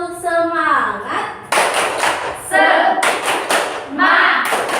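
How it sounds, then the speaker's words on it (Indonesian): Women in a workshop session chanting and then breaking into rhythmic group hand claps, sharp loud bursts of clapping interleaved with shouted voices. "Tepuk semangat."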